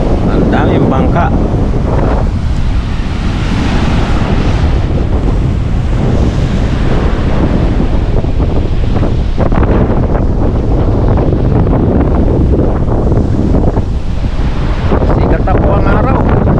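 Strong ocean waves pound the beach at Bucana, with many boats offshore, making a loud, constant roar of surf heavily buffeted by wind against the microphone.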